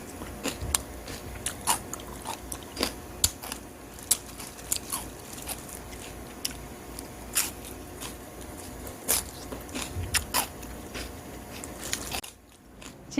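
Close, crisp crunching of altari radish kimchi being bitten and chewed, with irregular sharp crunches repeating steadily and no talking.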